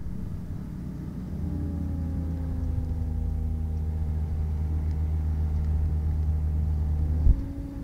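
A gyroplane engine runs while pre-rotating the rotor before takeoff, a steady mid-pitched droning hum with a low rumble that holds constant for several seconds, then briefly surges and cuts near the end.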